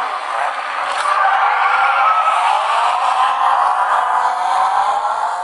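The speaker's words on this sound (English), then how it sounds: "Next up, we are going to play a racing game." Engine roar and squealing tyres from the mobile racing game GT Racing 2, a loud, steady stream of high revving and skidding that swells slightly and holds without pause, with no talking.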